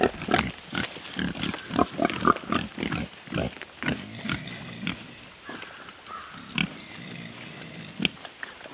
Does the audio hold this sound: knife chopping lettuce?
no